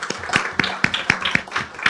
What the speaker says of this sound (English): I would like a round of applause for Mr. Garwood